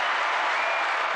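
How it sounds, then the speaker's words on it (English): An audience claps in dense, continuous applause at a talk show taping, filling the whole short moment loudly and evenly. "Clap it up. Clap it up."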